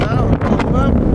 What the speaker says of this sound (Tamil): ஏன்னா வந்து பயங்கரமான காற்றடிக்குது